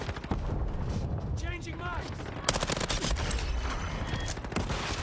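Rapid video game gunfire bursts crackle densely alongside a reload cancel, with mechanical clicks and a whooshing sweep partway through, loud and continuous throughout.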